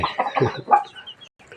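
Chickens clucking close by, a quick run of low, throaty clucks and a few higher squawks, then fainter calls trailing off.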